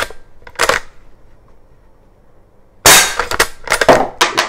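A Legends cowboy lever-action CO2 air rifle fires twice, first a lone sharp crack and then, after a pause, a quick run of close snapping shots mixed with the clack of the lever working.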